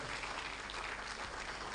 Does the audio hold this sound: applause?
yes